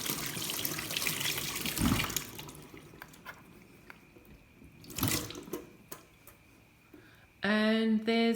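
Tap water runs and splashes while a blown-out egg is rinsed at a sink, a steady close wash in the first seconds that fades to faint drips and trickles, then a brief loud tonal noise near the end.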